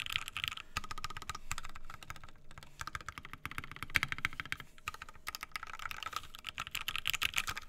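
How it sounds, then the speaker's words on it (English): Mechanical keyboard with an FR4 plate, Alpaca switches and UHMWPE stems on a TKL board, typed rapidly in dense, continuous bursts of crisp clicky keystrokes, close and fairly loud with no talking. "This is FR4 plate alpacas with UHMWPE stems."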